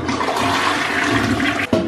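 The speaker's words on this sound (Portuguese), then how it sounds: "Vou dar descarga aqui, ó." A toilet flushes nearby in one loud, continuous rush of water that cuts off abruptly near the end with a short gurgle.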